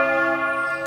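Church bells ringing on a cool, damp afternoon, a steady sustained peal with dense overlapping tones that hang in the air without pause, no voices.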